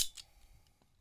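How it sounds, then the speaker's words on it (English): Old, rusty lake golf ball being cut open, a couple of sharp close snips followed by faint clicks, quiet and brief. "We'll cut it across the same line as well."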